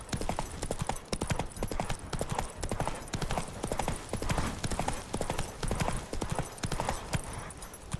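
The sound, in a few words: horse (Roach) galloping, from video game The Witcher 3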